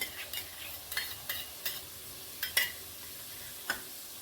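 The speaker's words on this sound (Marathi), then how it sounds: "आणि छान दही परतून घेऊया" Yogurt being stirred into a mixed vegetable masala in a pan over a low flame, a series of soft scraping strokes with a light sizzle beneath, irregular and close, with no voices.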